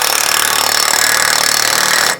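A power tool whirs loud and steady up close as it draws a wheel stud tight, running continuously for about two seconds before cutting off abruptly.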